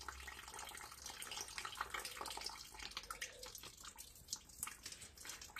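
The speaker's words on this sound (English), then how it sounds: "I'll let that drain. And I got an oil pan that, you know, the motor drained into." Liquid steadily draining from a Briggs & Stratton carburetor on a Craftsman leaf vac chipper into an oil pan, a continuous close trickle and splash with occasional drips. No one speaks.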